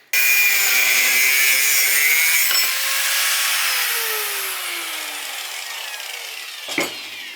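A grinder shapes the rough outline of a homemade scooter sprocket, a loud, continuous high-pitched metal grinding whine whose pitch slowly sags and drifts, with a brief scrape near the end.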